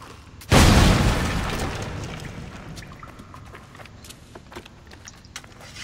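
A sudden loud boom erupts in Assassin's Creed 3, followed by a long rumbling decay and scattered debris clatter that fades over several seconds.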